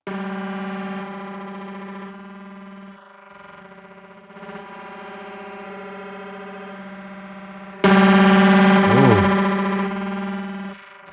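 Drawn-out, smeared tones from an MPC 2000XL sampler's time-stretch effect, wet signal only, with sustained pitches that hold and shift. A louder, distorted warble bursts in near the end.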